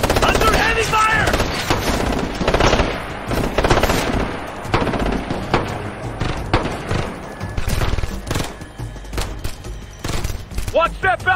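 Sustained LMG machine gun fire and rapid gunshots rattle through a firefight in the video game Ghost Recon Future Soldier, loud and dense, with shouted squad callouts over the shooting.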